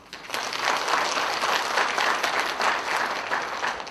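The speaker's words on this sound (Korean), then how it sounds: "한 분 한 분 소개해 드릴 때마다 환영의 박수로 맞이해 주시기 바랍니다." Steady applause from an audience at a Busan city health program results presentation, many hands clapping continuously at a fairly even level for several seconds, with no voices standing out.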